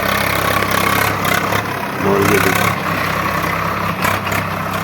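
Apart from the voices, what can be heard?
tractor engine idling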